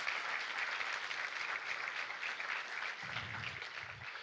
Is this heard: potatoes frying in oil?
no